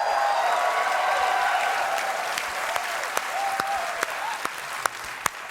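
Studio audience applause on The Late Show, a full, steady burst of clapping that gradually thins toward the end, a few louder individual claps standing out.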